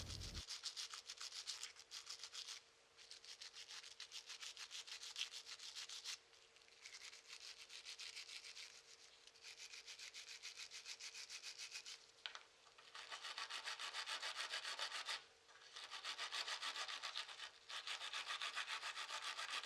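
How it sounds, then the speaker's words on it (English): A copper brush scrubbing lead buildup off a steel gun suppressor baffle, a fast rhythmic scratchy rasping in close bursts with short pauses between strokes. "Brushing it with the copper brush has essentially given it a polished finish."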